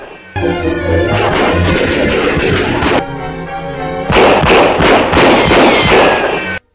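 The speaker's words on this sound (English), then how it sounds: "now it's only 1 crook firing into the box instead of 2" Gunfire in a classic Superman movie as a crook fires into a box, heard as dense, loud, continuous crackling bursts with a short gap between two long volleys, with no talking.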